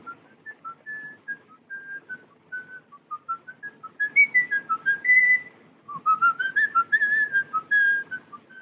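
Someone whistles a wandering melody of short and sustained notes, fairly close and clear, over a low background hum with no talking.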